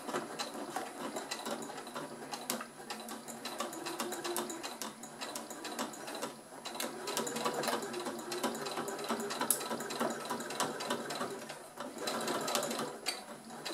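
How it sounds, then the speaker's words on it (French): A sewing machine runs slowly and steadily, stitching fabric 5 mm from the edge of a small multi-use pouch, its needle mechanism whirring and clicking continuously up close with brief pauses. "Je vais doucement et je couds le tout à 5 mm du bord."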